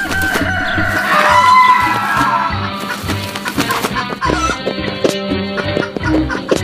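Cartoon chickens cluck and squawk busily, with a rooster-like crow early on, loud and close, the flock's chatter overlapping in quick bursts alongside other animated sound effects.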